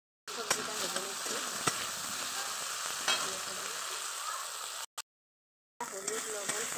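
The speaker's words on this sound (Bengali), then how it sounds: "এখন হলুদ লবণ দিয়ে সবজিটা ভেজে নিচ্ছি" Vegetables frying in a pan with turmeric and salt, a steady close sizzle broken by a few sharp crackles and pops, cutting out briefly near the end before resuming.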